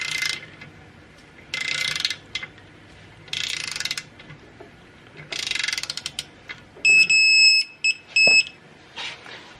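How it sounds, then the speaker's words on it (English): Torque wrench clicking as it tightens clutch pressure plate bolts on a 2JZ engine with an ACT racing clutch, heard as several bursts of ratcheting with a few sharp, beep-like clicks and pauses between. "Now we're gonna get the torque wrench, and we're gonna do the same thing."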